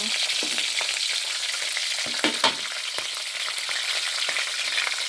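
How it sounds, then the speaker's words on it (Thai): Two pieces of fragrant short mackerel (pla thu) fry in oil with a dense, steady close-up sizzle, marked by a few sharper pops and bursts of spatter. "ทอดกันนะจ๊ะทอดแบบไหนให้อร่อยนะคะ"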